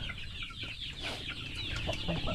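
Chickens and young chicks, about two months old, clucking steadily close by in a backyard coop, a busy overlapping flock chatter with occasional louder calls.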